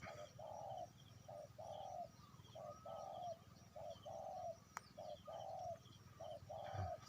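Doves coo in a steady repeating pattern, each soft, low call followed by a longer phrase, over a faint constant hum in an outdoor setting.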